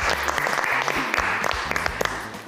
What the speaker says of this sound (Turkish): Alkışlarla kardeşlerine.